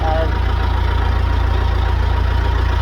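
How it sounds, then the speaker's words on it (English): A Boss forklift with a Perkins diesel engine idles close by, a loud, steady low rumble with an even, regular throb throughout. "Boss forklift and yeah, Perkins diesel."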